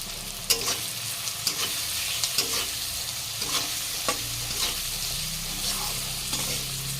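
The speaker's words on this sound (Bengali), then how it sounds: "ভালো করে একটু মশলাটা কষাবো।" Pumpkin pieces and ground cumin, turmeric and red chilli powder are sautéed in a pan, with a steady sizzle and regular scraping, tapping strokes of a spatula.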